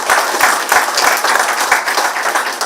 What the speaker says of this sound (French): Veuillez acclamer nos hauts conseillers.